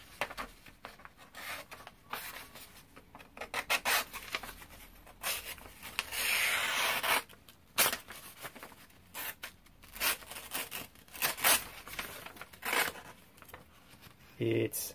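A Dexter Russell Connoisseur 3-inch paring knife slices through a standard sheet of copier paper, making a series of dry rasping, scratchy strokes in irregular bursts, close and fairly quiet.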